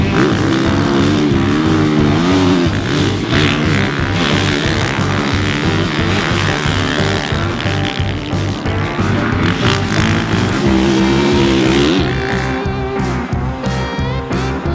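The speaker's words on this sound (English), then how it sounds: "Today we're getting our first chance to ride the 2026 Honda CRF450R." A 2026 Honda CRF450R dirt bike engine roars loud and close while being ridden, its rapid pulsing exhaust note rising and falling steadily with throttle, with no talking.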